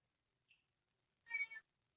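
A cat meows in a radio studio, one faint brief chirp followed by a clearer, louder meow, close in an otherwise quiet room.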